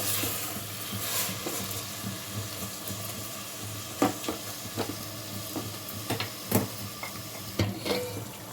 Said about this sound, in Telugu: ఇప్పుడు కట్ చేసుకున్న టమాటా ముక్కలు మొత్తం ఒకసారి కలుపుకోవాలి.